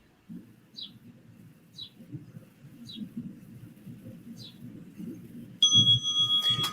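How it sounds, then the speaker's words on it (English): A single meditation interval bell strikes clearly near the end and rings on with a sustained tone, after a stretch of low murmuring and faint bird chirps. "You're going to hear the bells from time to time. They're called interval bells."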